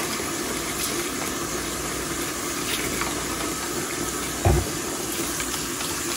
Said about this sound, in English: So I get some warm water in there.